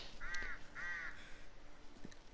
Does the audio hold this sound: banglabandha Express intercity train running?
no